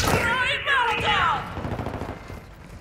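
Gunfire in Call of Duty: Modern Warfare II crackles in rapid, loud bursts beneath a filtered radio-style voice, then continues as scattered, fading shots.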